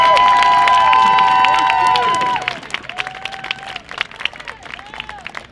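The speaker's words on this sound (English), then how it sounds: "Can we give a big round of applause for Dotty Nygard, please?" A rally crowd at a registered nurses' strike line cheers loudly, with high whoops and shouts over steady applause, then the noise thins into scattered clapping and calls.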